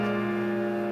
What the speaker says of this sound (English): in the major key, we have the German 6, which sounds like this